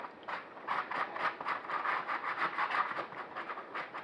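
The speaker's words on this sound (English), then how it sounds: "you can take your razor blade and just kind of sharpen up that corner" A razor blade scrapes along the corner of a cutout made with a Dremel, giving a steady series of close, soft rasping strokes with a short rhythmic repetition and no talking.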